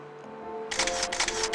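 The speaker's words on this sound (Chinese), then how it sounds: "你如果要捕捉，你快门多按几次也可以" A camera shutter fires in burst mode, a quick run of about half a dozen crisp, close clicks after a brief quiet moment, with no talking.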